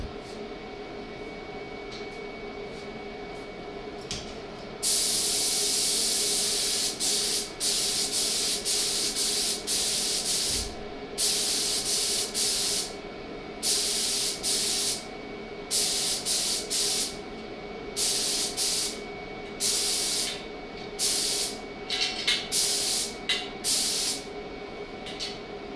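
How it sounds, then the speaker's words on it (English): Spray gun laying gold lacquer onto a trombone, with loud hissing bursts that start and stop in repeated passes over a low steady background hum; no talking. "I've done the spraying with gold"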